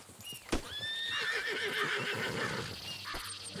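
A horse in Red Dead Redemption 2 lets out a loud, drawn-out whinny close by, over the rhythmic clip-clop of hooves and a sharp thud near the start.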